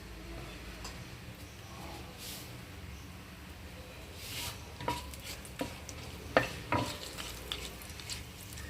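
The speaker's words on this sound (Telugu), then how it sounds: "ఆయిల్ వేడైన తర్వాత మన మసాలా సరుకుని దీంట్లో యాడ్ చేసుకోవాలి" Whole spices frying in about 50 grams of hot oil in a pan, a soft sizzle under a lower hiss, then a run of louder scraping stirs and clicks in the second half.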